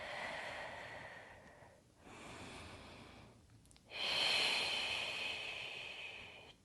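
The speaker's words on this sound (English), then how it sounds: "and breathe" Slow, deep breathing while hinged forward in a Pilates stretch, long airy inhales and exhales rising and falling close to the listener, one stronger breath near the end, with no talking.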